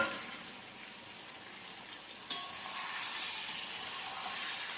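Chicken curry sizzling and frying in a pan, with a steady soft hiss and a couple of brief clinks or stirs partway through, close and fairly quiet, no voices.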